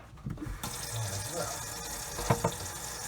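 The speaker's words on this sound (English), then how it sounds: "run some water" Kitchen sink faucet turned on beneath a leaking garbage disposal, water rushing steadily, close and fairly quiet, with a couple of brief clunks.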